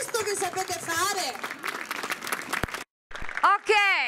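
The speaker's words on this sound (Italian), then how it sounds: "Facciamo un applauso a Loris Pio Lepore. Un applauso grande." An audience claps for Loris Pio Lepore at a World Autism Day 2019 afternoon event in Campora San Giovanni; the quiet applause runs under someone talking, with a brief silent gap near the end.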